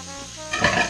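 Onions go into a frying pan just used for sausage, a brief stir and clatter followed by a rising hot sizzle, close and fairly loud.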